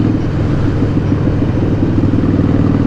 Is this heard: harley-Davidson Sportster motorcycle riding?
yes